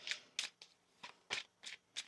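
Tarot cards are shuffled by hand in quick soft riffling bursts, about seven brisk papery swishes at close range, with no talking.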